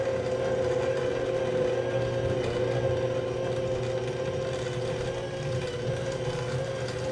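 Grain mill with an internal auger feeding corn into the burrs, a steady mechanical whir and hum that runs continuously at close range without any voices.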